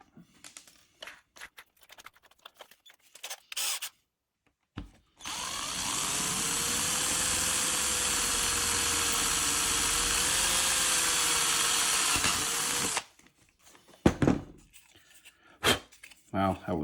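A power drill with a bigger bit bores a hole in a small Lima CN switcher locomotive, a steady high whirring that runs for about eight seconds, bracketed by quiet handling clicks and knocks before and after.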